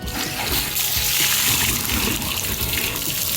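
A water jet sprays over an electric car to rinse it, a loud, continuous hissing splash that holds steady throughout.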